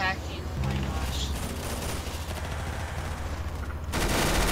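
Dense, continuous rapid gunfire from a Roblox shooting game, loud and sustained throughout with a sharper burst near the end.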